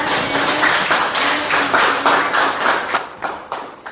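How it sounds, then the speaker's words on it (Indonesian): Students in a classroom clap together in a quick, regular rhythm of about three claps a second, close and loud at first and loosening toward the end. "beri aplaus buat semuanya"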